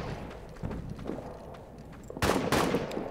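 Scattered gunshots in a video game firefight, laid down as suppressing fire: a few muffled distant pops early, then two sharp, loud close shots near the end, with no talking.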